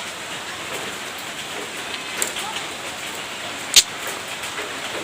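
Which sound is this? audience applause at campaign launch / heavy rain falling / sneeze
heavy rain falling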